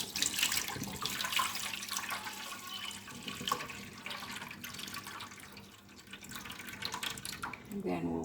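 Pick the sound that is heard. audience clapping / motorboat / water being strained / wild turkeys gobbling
water being strained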